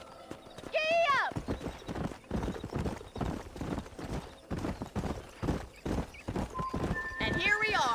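Horse in the Red Dead Redemption video game whinnying loudly, then clip-clopping at a steady trot beneath continuous speech, with another neigh rising at the end.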